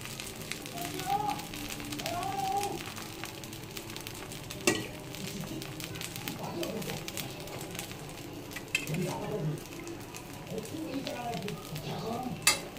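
A plain dosa cooks on a pan as oil is added, giving a steady, moderate sizzle with a few sharp clinks of a utensil. A faint voice can be heard in the background.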